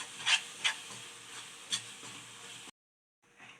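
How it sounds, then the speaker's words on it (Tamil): Coconut rava burfi mixture stirred in a pan, with a few soft scraping strokes over a steady hiss, followed by a brief pause and one last quieter scrape. "நல்லா கைவிடாமல் கிளறுங்க"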